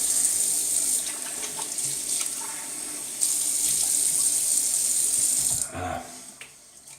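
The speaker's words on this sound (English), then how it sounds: "Let me just rinse real quick." Tap water runs into a sink for rinsing during a shave, a steady hiss that briefly dips and resumes before cutting off near the end, with some light handling noises.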